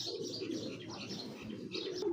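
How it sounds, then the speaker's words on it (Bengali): A Palla breed pigeon coos in soft, continuous low throaty rolls, close and fairly quiet. "পাল্লার কবুতর, অরিজিনাল পাল্লার একটা কবুতর।"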